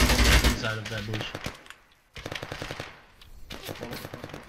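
Rapid bursts of gunfire from a military co-op shooter game crackle loudly at the start, fade into a brief lull, then return in scattered volleys alongside voice chat.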